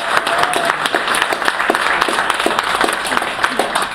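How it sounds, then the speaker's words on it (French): An audience applauds at a Christmas tree ceremony at the Cameroon embassy in France, with dense, steady clapping from a sizable crowd sustained at full strength throughout. "Donc on peut l'applaudir une fois de plus"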